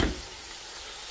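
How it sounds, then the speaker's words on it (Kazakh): Onion and carrot frying in a pan for a winter eggplant salad, giving a steady soft sizzle that starts with a brief louder burst and then holds even and close, with no voices. "Одан кейін пияз пен сәбізді әдемілеп қуырып аламын."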